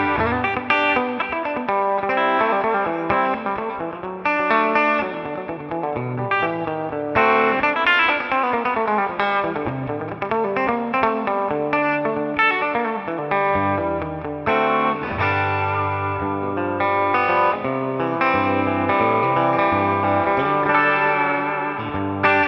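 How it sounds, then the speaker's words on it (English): A Gretsch Masterbuilt electric guitar played through its bridge P90 pickup on a clean amp setting, with continuous chords and single notes for over twenty seconds, loud and up front with no talking. "let's hear that bridge P90 one more time through the clean setting."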